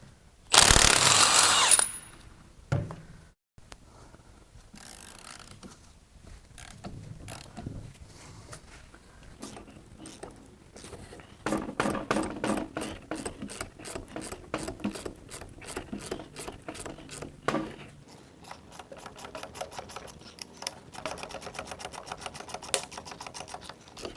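A ratchet works on the pulley and front cover bolts of a locked-up, blown 6.1L Dodge SRT8 Hemi engine during a teardown, giving rapid close clicking bursts separated by pauses, with some metallic handling in between.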